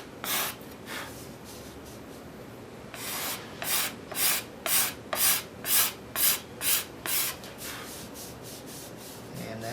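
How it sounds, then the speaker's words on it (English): A hand scraper draws across a carved wooden chair seat in a steady series of short, crisp rasping strokes, about a dozen close scrapes in a regular rhythm with brief pauses between, no talking. "Then I'll just take a scraper and wherever the scraper is that I want."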